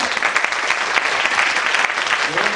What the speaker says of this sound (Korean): 우리 청장님께 다시 한번 박수!